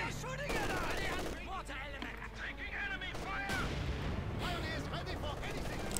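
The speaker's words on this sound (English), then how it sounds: "Maxim firing away on a few of the gunners there" Machine gun fire in Company of Heroes 2, with a Maxim gun firing on enemy gunners in a long, dense stretch of battle noise under continuous commentary.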